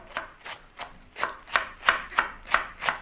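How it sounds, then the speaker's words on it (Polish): A knife chops young cabbage finely on a board in a steady rhythm, about nine crisp, close cuts over a few seconds, with no talking. "jeśli chodzi o krojenie kapusty do tego dania, staram się pokroić dość drobno"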